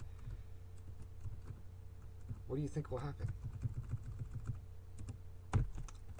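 Steady clicking of computer keys at close range, with a person speaking briefly over the typing partway through and one louder tap near the end.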